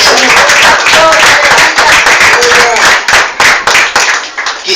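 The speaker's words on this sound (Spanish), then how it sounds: "¿Cuántos aplauden al Señor?" A church congregation claps and applauds together in a steady, dense burst of hand claps that fills the room, thinning into scattered claps toward the end, with a voice faintly present underneath.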